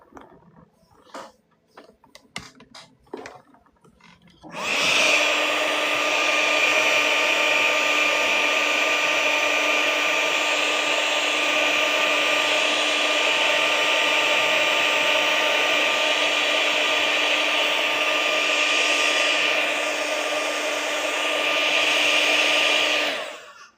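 A hair dryer drying watercolor paint switches on after a few faint taps and then blows in a loud, steady roar for nearly twenty seconds, close up and alone.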